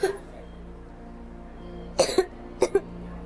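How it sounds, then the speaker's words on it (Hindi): A sick child coughs in a hospital, several short, sharp coughs in two quick pairs following a quiet stretch, close and clear over a low steady hum. "दिखता नहीं बच्चा कितना खांस रहा है"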